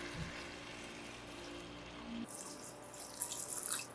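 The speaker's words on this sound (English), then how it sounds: "we will be adding that 4th cup of water right there" Water pours into a pot of white bean soup, a steady liquid rush that shifts to a brighter, splashier stream partway through, close and fairly quiet with no talking.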